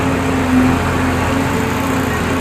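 A Mahindra 595 DI Turbo tractor backhoe runs steadily and loud while lifting its stick with a large rock, its engine droning with a constant hum and no talk over it.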